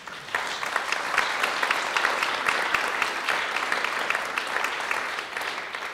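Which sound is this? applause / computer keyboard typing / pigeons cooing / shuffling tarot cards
applause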